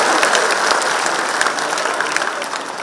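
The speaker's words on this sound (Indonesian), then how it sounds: "Bung Dasko, kita berikan tepuk tangan." Applause from an audience at an Indonesian political party event, dense continuous clapping heard close and loud throughout, with a faint murmur of the crowd.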